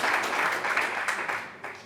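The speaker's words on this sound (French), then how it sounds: "Vous pouvez applaudir ce brave Gérard." Audience applause at an Unser Land campaign rally, a dense burst of clapping from a crowd that swells loudly and then slowly fades over a couple of seconds, with no voices over it.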